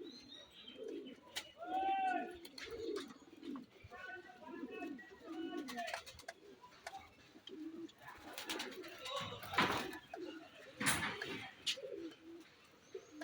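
Repeated soft, rolling coos from pigeons nearby, mixed with scattered chirps, wing flaps and clattering noises.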